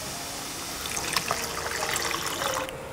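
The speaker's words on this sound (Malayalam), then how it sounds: "നമുക്ക് തേങ്ങാപ്പാൽ ഇതിലേക്ക് ചേർത്ത് കൊടുക്കാം." Coconut milk pours steadily into a pot while upma is being cooked, a continuous close liquid trickle and splash running for the whole few seconds with no talk.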